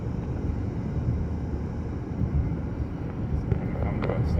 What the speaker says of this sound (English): Wind is really starting to blow the snow.